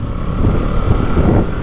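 Motorcycle engine in first gear during a wheelie, close and loud: a steady low rumble that swells and eases slightly, with no talk.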